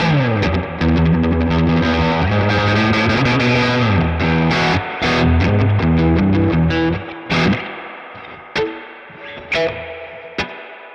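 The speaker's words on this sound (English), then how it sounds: "Got a spring reverb." Distorted electric guitar riffing through a Boss Katana MkII amp's spring reverb, springy and splashy; playing thins into sparse staccato hits separated by reverberant gaps toward the end.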